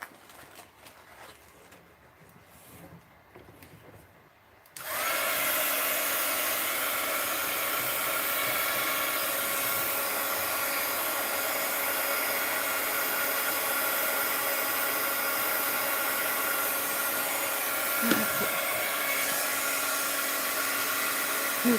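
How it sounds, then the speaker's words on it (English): A heat gun at a craft table roars on after a few seconds of quiet and keeps blowing steadily and loudly, a broad airy hiss that holds without break to the end. "So let's get my heat gun out."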